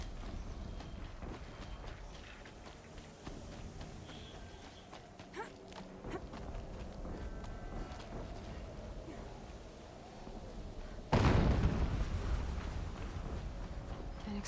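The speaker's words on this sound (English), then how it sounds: "An explosion." Horizon Zero Dawn gameplay with soft footsteps and hoofbeat-like clatter, then a sudden loud in-game explosion near the end that booms and slowly rumbles away.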